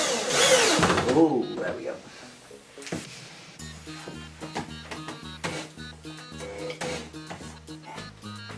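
A power screwdriver drives a screw into a wooden hoof heel in short whirring bursts, close by, with a person speaking briefly between them.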